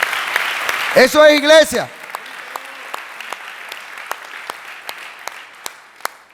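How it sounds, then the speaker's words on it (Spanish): A church congregation applauds God in a sustained round of clapping, many hands steady and moderately near, following a brief shouted phrase from a preacher at the start. "Dale un aplauso fuerte a Dios."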